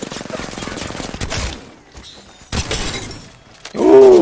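Gunfire in the video game Apex Legends: rapid bursts of loud, close shots with sharp, shattering impacts, separated by short pauses, ending on a loud burst with a brief voice.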